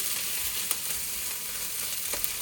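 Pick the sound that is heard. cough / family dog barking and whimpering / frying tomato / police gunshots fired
frying tomato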